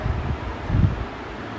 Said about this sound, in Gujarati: એસીની હવા ખાઈ લઉં